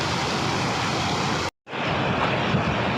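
Strong wind roars steadily across the microphone at a seashore in heavy rain, mixed with broadband surf-like rushing, dropping out abruptly for a split second before resuming.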